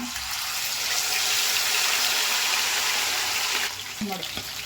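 Kebab pieces slide into hot oil, producing a loud, steady, broadband frying hiss that fills the clip, then drops off near the end with a few small clinks. No one speaks.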